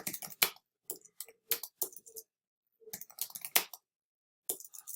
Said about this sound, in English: And I can go ahead and type in here.